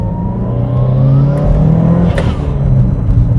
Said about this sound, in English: we do have a Turbo Smart dual port blow off valve on it